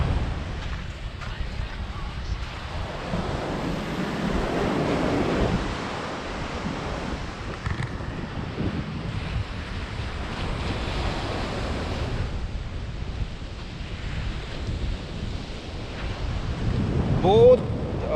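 Waves break and wash ashore on a quiet beach in Goa, a steady broadband roar with rising and falling surges and some wind buffeting the microphone, with no voices.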